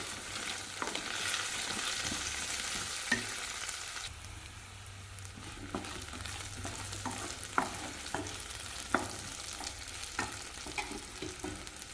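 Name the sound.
sautéing cinnamon, cloves, cardamom, poppy seeds and garlic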